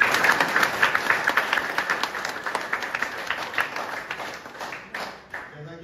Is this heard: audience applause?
yes